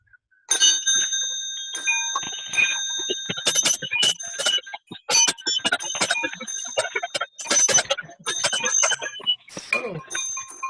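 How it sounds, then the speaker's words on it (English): Small hand bells and chimes rung by participants joining an online church service, a scatter of overlapping bright rings and dings from several sources at once, arriving in irregular bursts with brief gaps between them. "unmuting yourselves when we need to ring the bell"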